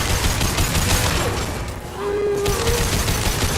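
Shotgun gunfire in the video game Mass Effect 2: dense, loud overlapping blasts and battle noise fill the scene, easing into a short lull near the middle before the shooting surges back.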